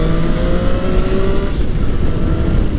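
A Triumph Street Triple 660 S motorcycle engine pulling hard at high revs, a loud, steady, close roar held without a break.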